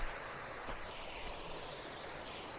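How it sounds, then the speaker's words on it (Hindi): Water flows and waterfalls pour at Sumbal Lake in a soft, continuous rush that sounds faint and somewhat distant, with no talking. "ये पानी और झरनों की आवाज़ें आप देखें कि कितनी प्यारी लग रही हैं।"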